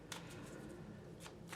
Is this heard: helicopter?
no